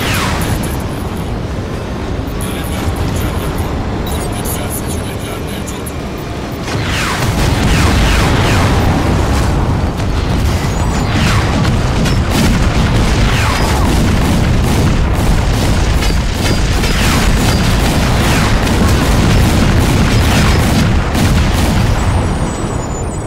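Bomb explosions in Crysis 2 Remastered, a heavy, continuous booming roar that grows louder partway through, with bursts and rumbling layered over it.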